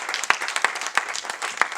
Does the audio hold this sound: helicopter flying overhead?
no